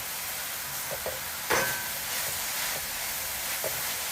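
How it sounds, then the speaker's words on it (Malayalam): Palak spinach cooks down in a pan with a steady, even sizzling hiss, broken by a few soft stirring scrapes and one brief louder clatter. "ചീരയുടെ വെള്ളമൊക്കെ വറ്റി നല്ല കുക്കായി നന്നായിട്ട് കുക്കായി വന്നിട്ടുണ്ട്"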